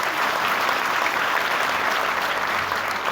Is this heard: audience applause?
yes